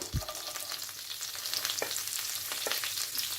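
Onion fries in a pan of vegetable oil and butter, a close, bright crackling sizzle with a thump as it goes in, then scattered pops and spatters over a continuous hiss.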